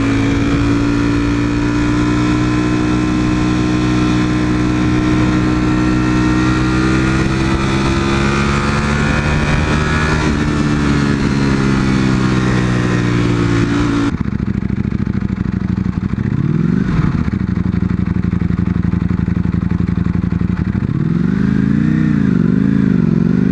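Mercedes AMG car engine roaring with a sustained, loud droning rev that rises and falls slightly, then drops to a rougher lower tone with brief pitch swells as the throttle changes.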